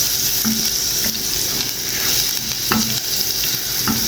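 Garlic sizzles steadily in hot oil in a frying pan while a spoon stirs and scrapes it, with occasional sharp clinks against the pan, close and continuous with no talking.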